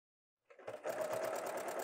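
A sewing machine starts up after silence and stitches pajama fabric, beginning with a short back stitch, then a steady, fast mechanical whir with fine rhythmic needle ticks, close and moderately quiet.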